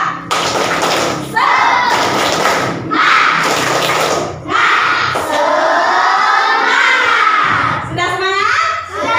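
Fifth-grade schoolchildren in a classroom doing rhythmic spirit clapping (tepuk semangat), loud group claps mixed with children chanting and shouting together in bursts.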